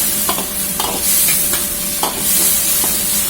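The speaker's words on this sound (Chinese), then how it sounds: "勾入少许的水淀粉，用勺子轻轻的推动一下" A spoon gently pushes through thick, cornstarch-thickened sauce of tofu in a pan in several short strokes, over a steady low sizzle and hiss on low heat.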